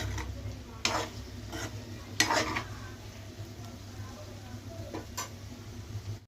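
Raw plantain frying in a pan, a steady soft sizzle with a few sharp utensil clinks and stirring scrapes at intervals.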